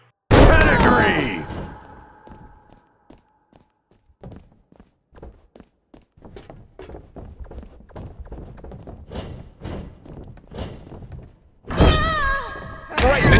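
A Pedigree slam lands in the WWE 2K22 wrestling video game, with loud crashing impacts at the start and end and a run of thuds and thumps between them under a commentator's voice.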